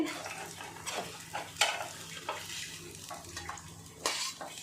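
Fish frying in a pan for a Tamil-style fish curry, giving a low, steady sizzle with occasional scraping and stirring clinks of utensil against pan.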